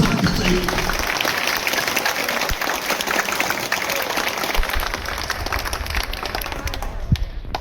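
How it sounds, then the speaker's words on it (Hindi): Dense applause from a college audience at a career guidance session, a steady sustained roar of many hands clapping close by for several seconds, with scattered crowd noise and a few thumps mixed in. "आप सबकी तालियों की बरसात चाहिए।"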